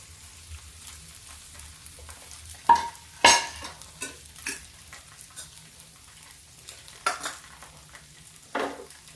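Samak rice dosa batter cooking on a pan, with scattered sharp scraping and tapping sounds over a faint low hiss and no talk.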